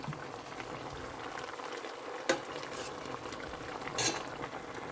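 Boiling pklala sauce with fresh okra and chili, bubbling steadily and softly, with two brief clinks or scrapes as pieces are lifted out of the pot into a dish.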